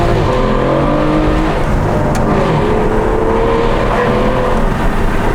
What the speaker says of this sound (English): They have put a bespoke exhaust system on this, and it sounds absolutely insane.